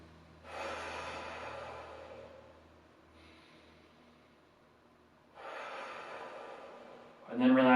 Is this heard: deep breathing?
yes